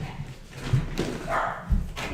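A pet dog barks a few sharp times at strangers indoors, close to the microphone, with short bursts separated by brief pauses.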